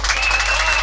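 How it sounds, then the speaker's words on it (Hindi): Applause at a naat poetry gathering, a dense burst of clapping from the crowd. It is brief and loud, with a voice underneath. "मैं चाहता हूँ एक बार आप अपने लिए तालियां बजा दीजिए।"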